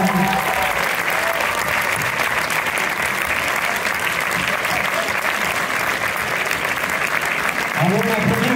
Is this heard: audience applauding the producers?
yes